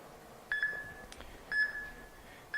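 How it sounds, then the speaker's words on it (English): A workout interval timer sounds three short, clear electronic beeps about a second apart, moderately quiet against a faint room hush. "I'll get the timer going for us."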